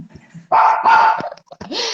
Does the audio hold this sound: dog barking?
yes